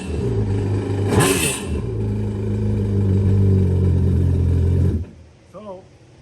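A 2021 Yamaha WaveRunner VX Cruiser HO with a 1.8 engine revs up loud and close, holds a steady roar for several seconds, then cuts off abruptly, with a voice speaking briefly near the end.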